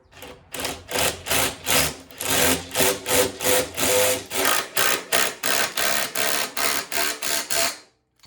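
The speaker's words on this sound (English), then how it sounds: "Now that is a tough board to drill through." Power drill boring a hole through a tough wooden board on an old hay wagon, loud and close, in a steady run of about a dozen rhythmic surges as the bit bites and eases through the wood.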